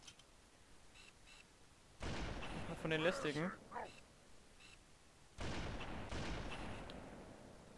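Gunfire in the Halo video game crackles in two long, loud stretches of rapid shots, with a voice speaking briefly over the first burst.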